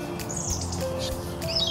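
Small birds chirp and tweet in a dendrological park among trees, flowering plants and shrubs, with high bright calls scattered over a steady outdoor background.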